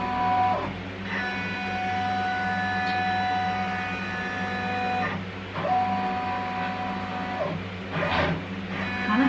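Embroidery machine running a trace of an appliqué design in its frame, a steady motorized whine and hum with tonal drone and occasional shifts as the frame moves, close and continuous.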